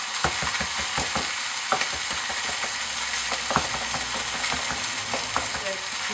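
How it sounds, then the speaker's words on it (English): Finely chopped parsley sauce is mixed in a small jug, with a continuous run of quick clinking and scraping strokes, close and fairly loud, alone with no voices. "So I'm just going to mix it up in this little jug here"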